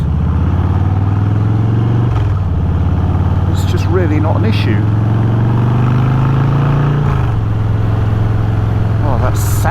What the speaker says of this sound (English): Oh, that sound is just, it sounds like a Harley-Davidson should.